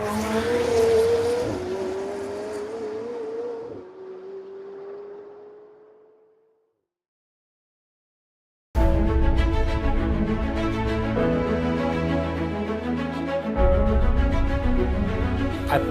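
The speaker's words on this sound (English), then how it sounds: "I think the McLaren 720S has the best McLaren sound so far." A McLaren 720S supercar engine revs with a loud, rising snarl that then winds down and fades out to silence; after a pause, music takes over.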